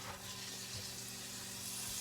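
Pork sizzles steadily in a hot skillet, a soft continuous searing hiss with no talk over it.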